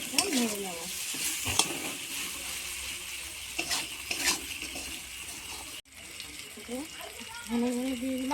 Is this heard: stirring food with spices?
yes